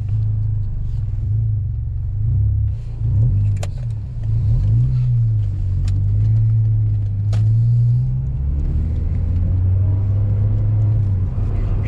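A Peugeot 206 RC with its 2-litre petrol engine, warmed up and driven on the road, hums as a loud, deep, steady drone with gentle pitch swells as the revs rise and fall, heard close from inside the car.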